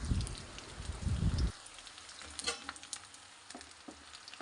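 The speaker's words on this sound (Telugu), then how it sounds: "కాకరకాయలకి మంచిగా కారపొడి పట్టేంత వరకు లో ఫ్లేమ్లో పెట్టుకొని వేయించుకోవాలి" Bitter gourd pieces fry with peanut powder in a pan on a low flame. A loud scraping stir comes first, then a soft steady sizzle with scattered light pops and clinks.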